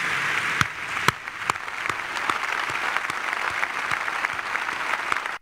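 An audience applauds in honor of migrants at a public event in Mexico. The applause is steady and sustained throughout, with a few sharper claps standing out near the start.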